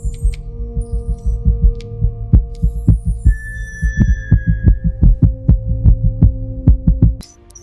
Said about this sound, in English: Heartbeat appears stable.